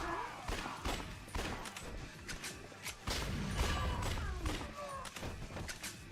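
Gunfire in the video game Dead Souls fires as repeated sharp bursts and thuds at an uneven rhythm, with crashes and whooshes between shots and a voice talking over parts of it.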